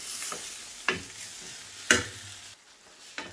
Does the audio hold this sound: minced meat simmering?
yes